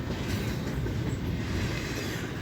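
A Norfolk Southern intermodal freight train rolls past in a continuous low rumble with faint clickety-clack of wheels, steady and moderately distant, with no voices.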